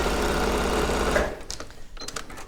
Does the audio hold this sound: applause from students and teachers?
no